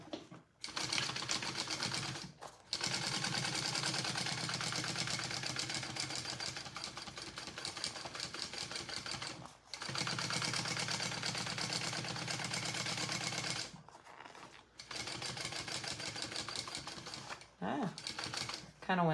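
A sewing machine runs in long continuous bursts stitching around a crossbody bag, loud rapid needle chatter with short pauses between runs, and brief talking near the end.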